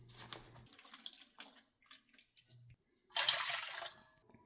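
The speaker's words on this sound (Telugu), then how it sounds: "దీంట్లో 2 గ్లాసుల వాటరు 2 గ్లాసుల పాలు పోసేయాలి" Milk and water poured into a pot for paramannam, a Telugu rice-and-milk sweet, splash in a loud, steady burst near the end, after a stretch of quieter splashes and clinks.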